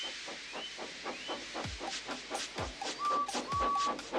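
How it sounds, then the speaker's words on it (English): A cartoon steam engine named Edward puffs away in rhythmic chuffs that gradually speed up, with hissing steam bursts and a couple of short whistle tones near the end. "made lots of steam, and Edward puffed away"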